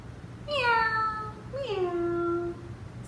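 A voice imitates a cat in a preschool story, giving two drawn-out meows in close succession, the second longer and sliding downward, clear over faint background hum.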